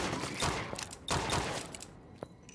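Rapid gunfire in the video game From Space: a dense burst of close, loud shots, a second volley after a short gap, then a single fainter shot trailing off, with no talking.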